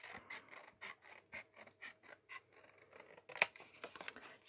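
Scissors cutting paper for a homemade Halloween popcorn box, a quick run of close, crisp snips in a steady rhythm, then a few sharper clicks near the end.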